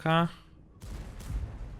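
A tank cannon shot in World of Tanks, from an E4 heavy tank: a short burst near the start, then two rumbling booms with low thuds, heard at moderate distance.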